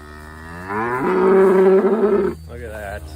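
A dairy cow moos long and loud in a pasture on a Wisconsin farm, a drawn-out low call followed by a shorter second moo, close by and alone.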